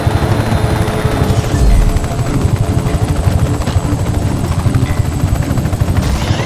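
A helicopter in the video game Just Cause 3 gives a loud, steady rotor drone with a low, continuous thump that holds close throughout, with no voices over it.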